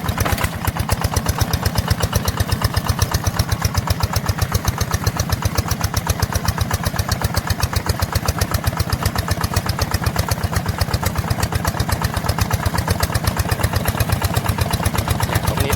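A vehicle engine revs lightly with no load, a steady rapid mechanical chugging with even pulses, close and loud throughout with no talk.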